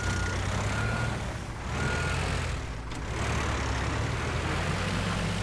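Truck reversing alarm in the physics sandbox game Teardown, a steady repeating beep carried over a loud, continuous engine rumble, briefly dipping twice, with no talk.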